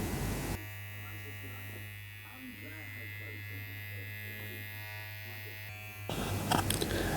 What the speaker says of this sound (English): I am using the corners of my clipper to clean up any dark spot areas and make the transition as smooth as possible